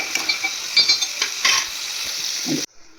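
Pieces of dried fish frying in hot oil in a pan, a steady close sizzle broken by a few scraping stirs, ending in a brief quieter stretch.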